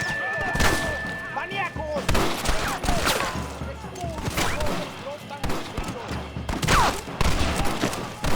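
Gunfire in Red Dead Redemption on PS5: dense, rapid volleys of shots and thuds crackle throughout, with overlapping bursts near and far, mixed with shouted voices in the game.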